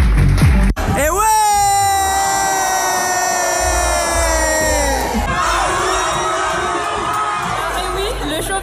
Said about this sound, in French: Je vous demande de les applaudir encore bien fort.